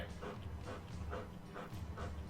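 A big dog pants close by in steady, rhythmic bursts of breath with faint whimpery tones, heard indoors during a drawing stream with no talk over it.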